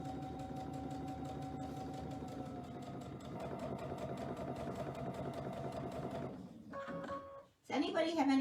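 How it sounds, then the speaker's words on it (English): Sewing machine stitching a fabric wreath, running in a steady fast mechanical chatter for about six seconds before stopping, followed by a few handling noises and a short voice. "Does anybody have any questions while I finish stitching this?"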